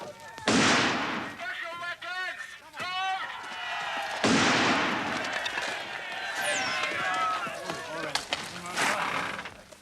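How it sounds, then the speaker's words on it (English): Sniper fire crackles during a 1975 Sandhurst military internal security exercise against a mob: several sharp cracks and bangs amid a noisy crowd scene, with shouting voices and a narrator talking over them. "But as they advance against the mob, there's the crack of sniper fire."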